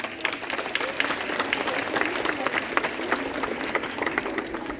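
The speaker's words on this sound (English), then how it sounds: "Let's give them both a huge round of applause." A school hall audience applauds two college council nominees, steady crowd clapping throughout at moderate level without a break.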